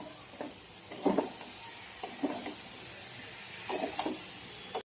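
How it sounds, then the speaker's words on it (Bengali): Soybean chunks and potatoes sauté in a hot pan with a steady sizzling hiss, broken by a few louder bursts as they are stirred and tossed, ending in a sharp knock. "এবার সোয়াবিনটা দিয়ে কষিয়ে নেবো ভালো করে।"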